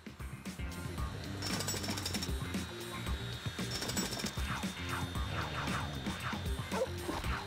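A guard dog barking in the Lego City Undercover video game, repeated yips and barks over a busy rhythmic jackhammer-like mechanical clatter and game music, moderately loud throughout.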